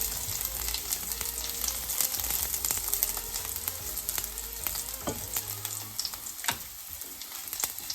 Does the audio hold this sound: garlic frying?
yes